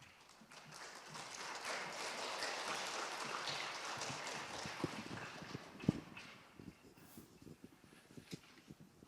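Audience applause at a school fifth grade DARE graduation, a broad clapping wash that swells and then thins into scattered individual claps and taps, moderately distant.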